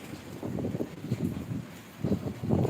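Strong typhoon wind in Tabuk Buenavista, Sablayan buffets the microphone in uneven, rumbling low gusts that swell and ease throughout, with no talk.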